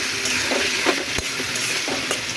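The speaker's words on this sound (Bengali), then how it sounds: "মাছগুলোকে একটু মশলার সাথে ভালো করে কষিয়ে নেবো" Prawns frying with spices in a pan, a steady loud sizzle broken by several scraping stirs of a utensil against the pan, close up and without talk.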